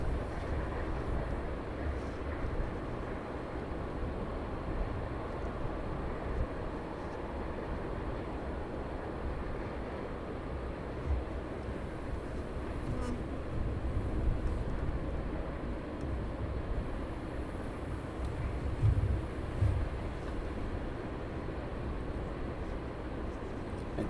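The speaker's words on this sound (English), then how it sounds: "737 coming in from Germany" A Boeing 737 arriving from Germany comes in to land at East Midlands Airport at night, a low, distant jet rumble rising and falling steadily under quiet outdoor background noise.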